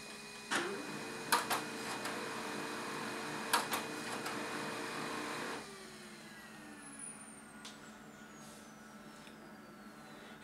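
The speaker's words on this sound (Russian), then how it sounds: "наш принтер не будет захватывать бумагу" A Samsung 4200 laser printer failing to grab paper, with its metal plate removed, whirs and hums steadily, with several sharp clicks and knocks, then the motor noise drops off partway through, leaving a quieter hum.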